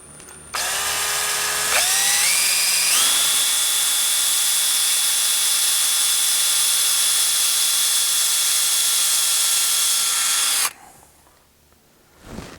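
A power tool drives self-tapping screws through existing holes in a Torqeedo outboard motor plate on a boat: one loud, sustained whine that climbs in pitch in two steps, holds steady for several seconds, then stops abruptly.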